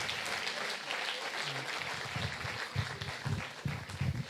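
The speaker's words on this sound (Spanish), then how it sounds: "Denle un aplauso a Jesús." Church congregation applauding in a worship service, a dense steady wash of clapping that fills the room at even loudness throughout.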